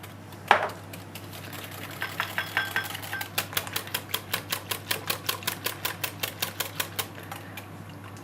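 A whisk beats cream and milk together for a dessert in a restaurant kitchen, a fast run of regular rapid ticks and clacks against the bowl after one sharp knock, close and clear.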